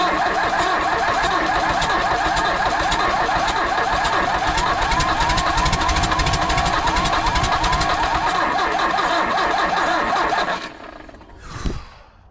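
An old engine cranks steadily for about ten seconds with a fast, rough mechanical chugging, loud and close, then cuts out, followed by a brief low rumble as it nearly catches.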